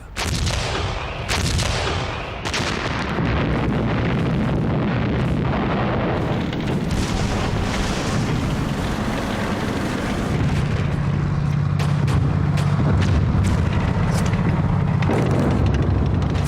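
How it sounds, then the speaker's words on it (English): German artillery opening fire in December 1944, a loud barrage of heavy booms and blasts rolling over a continuous deep rumble, with sharp repeated cracks piling up throughout. "On December the 16th, 1944, the Germans opened fire."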